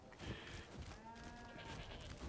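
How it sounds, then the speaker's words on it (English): A goat bleats in the Elder Scrolls Online game, a faint wavering cry rising above a steady hiss of background noise. "Goat. Goat."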